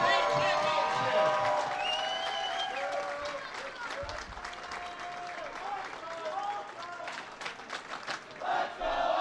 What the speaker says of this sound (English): let's get loud and cheer on our team for the Division II Girls Team State Championship